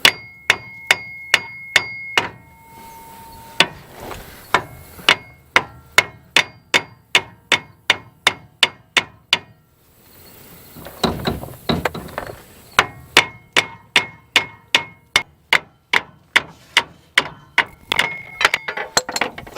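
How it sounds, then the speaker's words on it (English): A 3-pound sledgehammer tapping a torsion bar on a Mazda B2200 pickup, sharp metallic strikes in a steady rhythm, dozens of ringing taps, broken by a brief pause with rattling before the tapping resumes. "you just tap on the other end with a hammer. I'm using a 3-pound sledgehammer."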